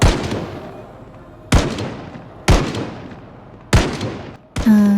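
Guns fire in the video game Project Zomboid: four loud, sharp shots about a second apart, each trailing off, then a fifth blast cut short at the end.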